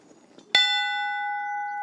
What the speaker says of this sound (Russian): И в деревне впервые за 100 лет услышали священный звон.